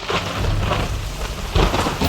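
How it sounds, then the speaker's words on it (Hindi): Heavy, steady rain pours down with a continuous low rumble of thunder during a flood. The downpour sounds loud and close throughout, and no voices are heard. "बारिश भी है, बाढ़ से हालात है"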